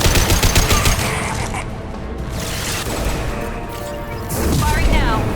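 Sustained gunfire from the video game Mass Effect 2, aboard the Collector Ship, with bursts and booming impacts running throughout at a steady, loud level, mixed with talk.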